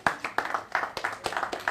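A few people clapping at a start-up accelerator gathering, sparse individual claps in an irregular rhythm, close and fairly faint.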